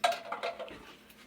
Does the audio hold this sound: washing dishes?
yes